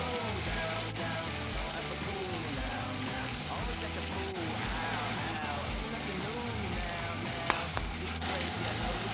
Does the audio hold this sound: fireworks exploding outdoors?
no